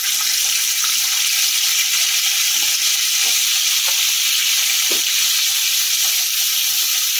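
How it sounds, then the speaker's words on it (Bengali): Steady, loud sizzling of cut potatoes frying in hot oil with salt, with occasional soft stirring scrapes. "লাল লাল করে আলুটাকে ভেজে নেবো আগে।"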